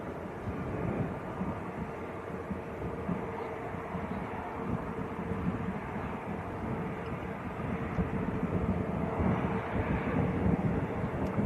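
EasyJet airliner rolling along the runway at Manchester Airport, heard as a steady, distant broadband roar mixed with wind buffeting, growing slightly louder toward the end.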